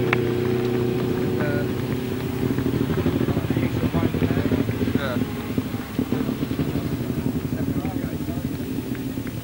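Grasstrack sidecar motorcycles on a lap of honour after a 2003 European semi-final, a steady engine drone with rising and falling revs under wind noise, mostly distant, with a commentator talking throughout.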